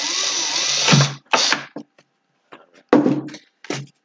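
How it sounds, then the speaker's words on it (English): A power drill whines in short bursts, drilling a small hole in a mouse trap car kit part, one long run followed by several brief pulses as it bites through, close and loud. "cheat and just drill a little hole here."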